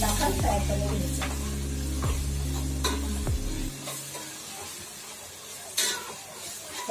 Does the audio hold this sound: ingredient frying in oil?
yes